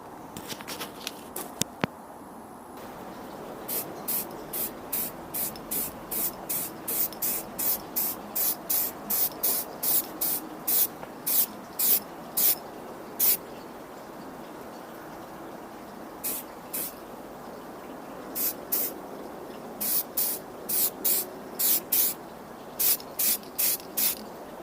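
Rapid repeated bursts of aerosol spray hiss in short regular pulses over a steady background hiss, with no talking, as paint is sprayed onto the body of a Mazda MX-5 Miata NB during rust repair.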